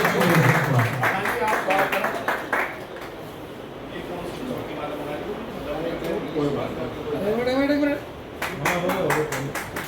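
Clapping at a residents' welfare association felicitation ceremony, welcoming newly appointed office-bearers of a colony RWA; bursts of hand claps at the start and near the end, while a voice speaks over a microphone in between.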